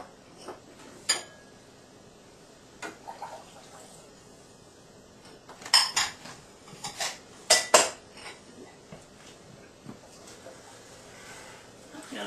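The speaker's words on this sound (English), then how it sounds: "I'm going to stir this around until all the sugar dissolves and it gets good and hot" A spoon stirs sugar into hot canning syrup in a pot for cherries, scattered metallic clinks and scrapes against the pot, close and intermittent, with a few louder clanks in the middle.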